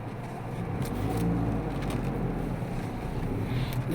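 A Tata Punch drives through a river in dense jungle, its engine rumbling steadily and loudly under continuous water churning and splashing, with some wind buffeting the microphone throughout.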